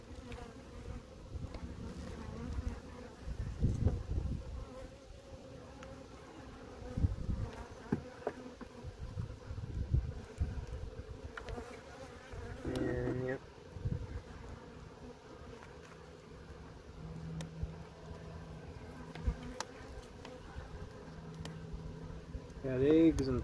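Honey bees from a caught swarm buzz steadily around hive frames drawn with fresh comb, a continuous near drone running under intermittent talk throughout.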